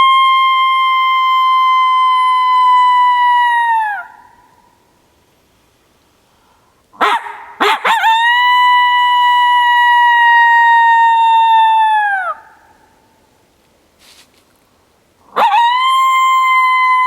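An MFK BlackOut coyote call imitates coyote howls and barks: three loud, long, sustained howls, each tapering into a drooping fall, broken up by a few sharp, quick barks and brief silences.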